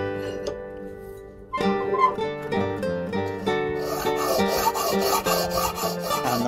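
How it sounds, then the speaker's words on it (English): A rough bastard file worked over a steel cabasset helmet half fixed to an adjustable wooden board, giving close rasping strokes that grow denser and brighter midway, with no talk. "the process of smoothing is begun with a rough bastard file"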